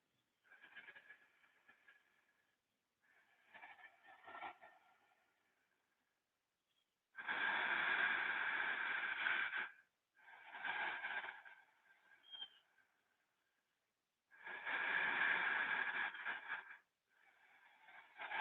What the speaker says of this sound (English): inhaling and exhaling through the nostrils so that you hear this audible breath that should sound like the